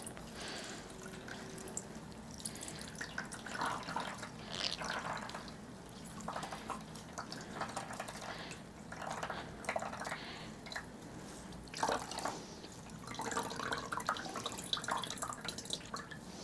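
Water drips and trickles from wet paper mache pulp squeezed in a cotton cloth, faint close-up splashes and squishy wet sounds coming in irregular bursts over a quiet background.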